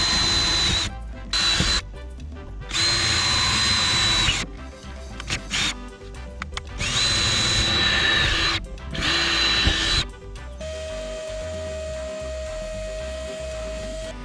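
A power drill boring relief holes through a deck, several close, loud whining bursts of a few seconds each separated by short pauses, ending in a steady lower motor hum.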